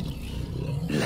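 A giant wolf, Fenrir, roars in Assassin's Creed Valhalla, a deep, sustained growling roar heard alone and loud for about a second, swelling slightly near the end.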